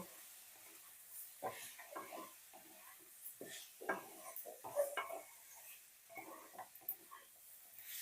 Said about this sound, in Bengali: এখন আবার ভালো করে সমস্ত কিছু মিশিয়ে নিয়ে হালকা করে ভেজে নেব